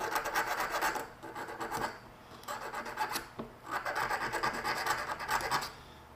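A hand tool deburrs a rolled metal edge in repeated rasping strokes, three bursts of scraping with short pauses between them, close and moderately loud, with no talk.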